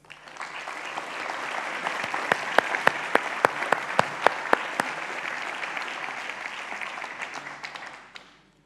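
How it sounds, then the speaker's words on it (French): Conference audience applauds a team at an opening speech, a sustained wash of clapping with a few louder individual claps near the front, tapering off at the end. "et je pense qu'on peut les applaudir."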